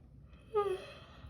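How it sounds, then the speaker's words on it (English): A person yawns once, a short breathy vocal swell that rises and fades, close and fairly quiet, with no other sound around it. "said I wouldn't yawn, but that was a lie"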